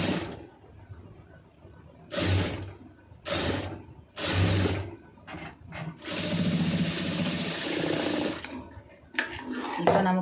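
A sewing machine stitches a blouse seam in several rapid bursts with short pauses between them, ending in a longer continuous run and one final quick burst, loud and close.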